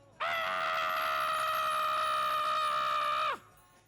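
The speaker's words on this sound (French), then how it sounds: "Il faut que tout le monde participe, que tout le monde crie très très fort." An audience of children at a guitar show shouts very loudly together, one sustained, unified cry held for about three seconds before cutting off abruptly.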